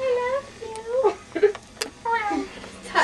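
A cat meows in a few short, rising and falling cries at close range, mixed with people speaking nearby.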